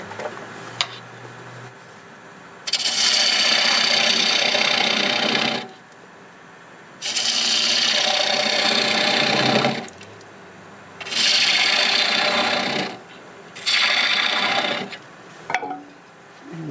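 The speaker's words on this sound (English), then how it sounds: "I'll use a 1/2 inch gouge for making this recess." A half-inch gouge cuts a recess into a knotty pear wood blank spinning on a lathe, making four sustained rasping, scraping bursts of a few seconds each, separated by short pauses, with no talk.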